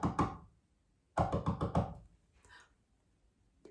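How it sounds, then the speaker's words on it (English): Woodpecker tapping in quick bursts, a rapid run of three or four knocks, then a longer run of about six, followed by a faint softer rattle, quiet and dry. "it's a woodpecker"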